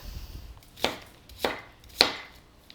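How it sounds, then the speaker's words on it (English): Tomatillos for hot sauce chopped with a knife on a board, three crisp, evenly spaced chops, close and clear, in a quiet room. "chop, again, simply so that it fits in the pot"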